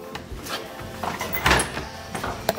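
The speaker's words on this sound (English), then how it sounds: "Let me close the door." A door is pulled shut at a house in Kumasi, Ghana, giving a few soft knocks and a firmer thud partway through, close by, against outdoor background noise.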